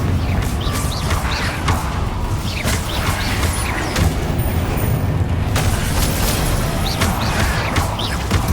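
Fiery Confringo spell blasts during combat in the Hogwarts Legacy game, heavy booming bursts and crashing debris layered over a dense, continuous loud rumble of battle effects.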